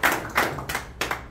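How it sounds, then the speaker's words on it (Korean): Brief bursts of hand clapping at a formal gathering of a world freestyle football federation, four or five short rounds of applause close by, with no talk over them. "박수 한번"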